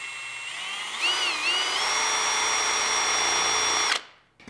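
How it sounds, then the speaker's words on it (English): A power drill whirs steadily for about four seconds, its pitch rising as the motor spins up, then it cuts off abruptly. "You have to drill a hole first."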